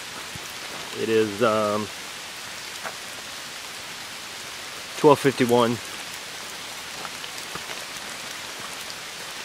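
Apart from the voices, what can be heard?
rain falling on a hiking trail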